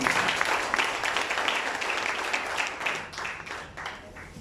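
A church congregation applauding during a sermon, a moderate burst of mixed clapping that swells and then thins out, heard alone.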